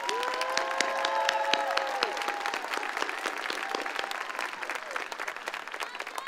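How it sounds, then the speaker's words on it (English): A large high school graduation crowd applauds senior class representatives, a continuous wash of clapping with some cheering and whistle-like tones early on, steady and fairly distant. "Let's give a round of applause for our senior class representatives."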